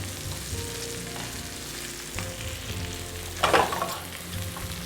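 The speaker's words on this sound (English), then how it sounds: "While the mushrooms are sauteing, I'm just going to prep my garlic." Steady sizzling and frying of mushrooms sautéing in butter in a pan, with occasional stirring scrapes and a brief louder crackle near the end.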